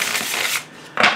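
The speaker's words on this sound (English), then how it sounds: "And it does shuffle really well." A large deck of tarot cards printed on slippery playing-card stock is shuffled, giving a close, crisp papery riffle that pauses briefly and then starts again, with no voices.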